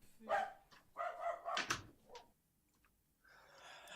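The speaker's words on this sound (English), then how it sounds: "Oh, there's Puppy" A dog barks several times in a short irregular burst, somewhat distant and moderately loud, followed by quiet and a faint rustle.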